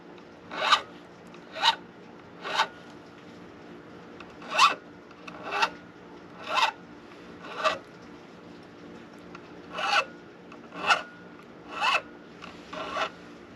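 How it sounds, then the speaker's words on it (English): A metal file deburring the fret-wire edges on a bound guitar fretboard, a dozen short rasping strokes in a steady, unhurried rhythm, close and clear with no talking. "just deburr the edges. I'm not trying to grind away at this with the file."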